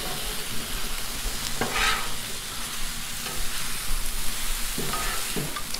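Chicken fajita vegetables in sauce being stirred on a Blackstone griddle, with steady sizzling frying underneath and a few scraping spatula strokes close by, without talk.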